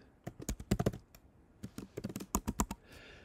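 Quick bursts of typing on a computer keyboard, close and fairly quiet, clusters of rapid key clicks separated by a short pause, with no speech.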